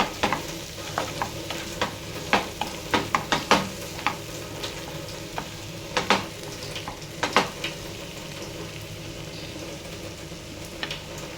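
Budam kaya (cucumber) curry stirred in a pan and scooped into a bowl, with repeated scraping, clinking spoon strikes against the vessel and a faint sizzle underneath, close and fairly loud, with no voices.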